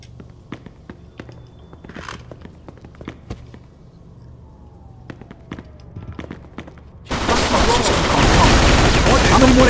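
Scattered sharp gunshots in the video game Mafia II, single cracks and short bursts with footsteps between them, then a sudden dense roar of sustained gunfire or noise over the final two seconds.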